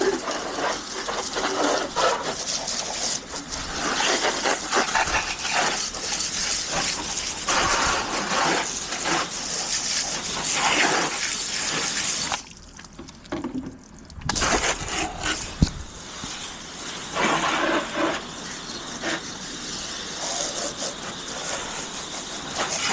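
A pressure washer rinsing a Quadrunner 250 ATV gives a loud, continuous hiss of spray that cuts out briefly partway through, then resumes. No one talks.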